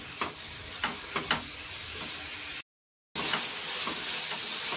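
Eggplant frying with poppy seed paste in a pan, a close, steady sizzle with a few sharp spatula scrapes early, then a brief dead-silent cut before the hiss resumes.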